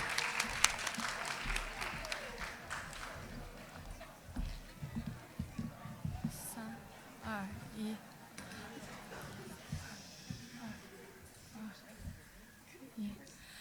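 Audience at a grade 11/12 spoken word poetry event applauding the poets, a steady wash of clapping with scattered whoops, strongest at the start and gradually thinning, mixed with crowd murmur and voices.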